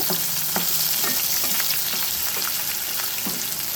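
Chopped onion fries in hot ghee with a loud, continuous sizzle and crackle. Occasional stirring scrapes break through, and no one speaks.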